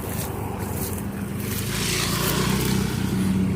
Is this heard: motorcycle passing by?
yes